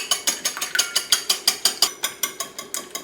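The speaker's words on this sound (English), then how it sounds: "I've cracked my 2 eggs, and the first thing we want to do is just break those up and whisk them together." Two cracked eggs being whisked together in a bowl for a chocolate cake batter, heard as a quick, steady run of about sixteen sharp, evenly spaced ticks and scrapes, close and alone.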